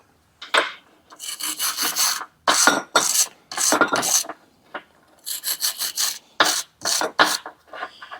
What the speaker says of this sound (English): I'm gonna use a wire brush.